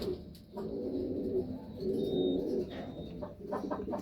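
A racing pigeon coos in low, repeated throaty phrases at a loft during training arrivals before a derby, close by, with a few soft rustles and no talk.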